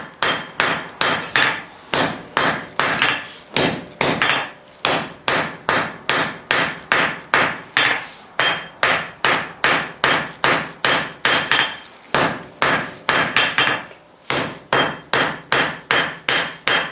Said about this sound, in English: forge it out on the far face of the anvil to form the toe of the scarf